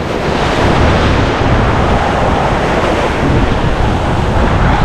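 Ocean surf rolls and crashes onto a beach at Tuy Hoa, a steady loud roar of breaking waves with wind buffeting the microphone throughout, no voices.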